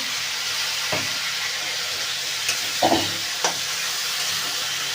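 Masala cooking in a pan with tomato and green chilli added, a steady low sizzle of frying under a few soft scrapes and clinks of a spoon stirring, close and fairly quiet with no talking.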